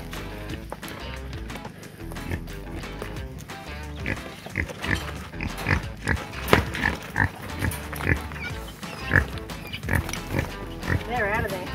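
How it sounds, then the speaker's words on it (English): Pigs grunting and snuffling close by, busy overlapping noises throughout, mixed with voices and shuffling movement. "Pigs have come to say hello."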